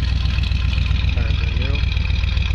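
A 1970 Chevy C10 Stepside custom pickup idles steadily, its low engine rumble and exhaust note continuous and close, with some background noise over it.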